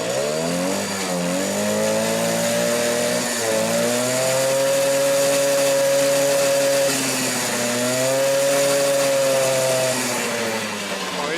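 A Suzuki LT 50cc mini quad under repair runs steadily with a buzzing two-stroke note, loud and close, rising and falling through several revs.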